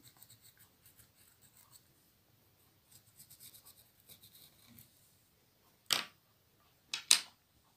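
A pencil draws on material for an amigurumi lion pattern, making faint short scratchy strokes in small bursts, followed near the end by two louder rustling scrapes.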